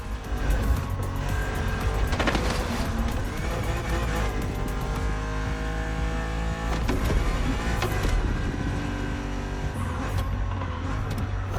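A BMW Z roadster racing in The Crew Motorfest, its engine droning loudly and continuously, rising and falling with gear changes and acceleration, with no voices.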